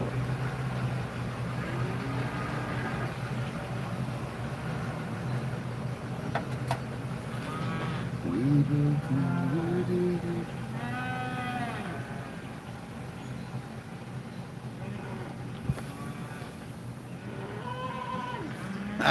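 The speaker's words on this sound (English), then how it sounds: "Them cows are so freaking excited. And listen to them." Cattle on a farm lowing in a couple of mid-volume calls, with a steady vehicle engine hum running beneath and faint background voices.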